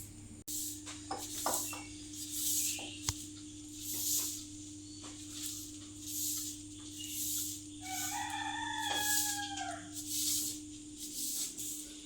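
A rooster crows outside a home in the early morning, a distant drawn-out call near the end over a steady electrical hum and soft background noise, with no talking.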